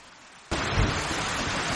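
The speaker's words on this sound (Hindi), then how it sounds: "अभी तो रात होने वाली है और बाहर बारिश भी रुक नहीं रही।" Rain falls outside at night, a steady broadband hiss that starts abruptly and continues loud and even, with a brief low thump near its onset.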